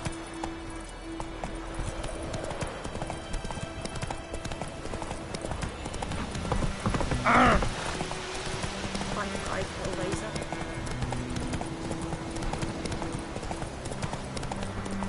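In The Witcher on PS4, a horse's hooves clip-clop in a steady, even rhythm throughout, close by, with a voice speaking over the hoofbeats.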